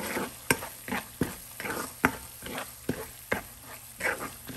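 Spoon scraping and stirring a coriander puliyogare mixture in a hot pan, with rhythmic strokes roughly twice a second over a faint sizzle, close up and without talk.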